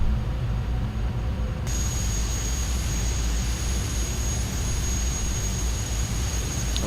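Steady jet engine drone of an airliner trundling along a taxiway in the Air Hauler flight simulator game, a continuous loud rumble with a high whine entering early and holding to the end.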